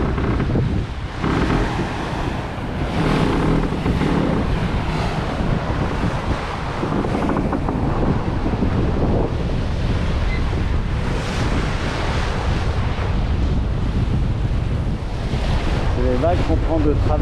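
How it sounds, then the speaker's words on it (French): Rough Atlantic swell striking a sailboat from the side on a crossing from the Azores to Gibraltar, a loud continuous roar of surf and rushing water with heavy wind buffeting the microphone throughout. "C'est les vagues qu'on prend de travers. Une bonne vague de travers."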